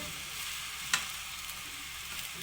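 Egg fried rice with soy sauce and white vinegar is stirred in a hot pan, giving a continuous close sizzle with one sharp scrape or clack of the utensil partway through, and no voices.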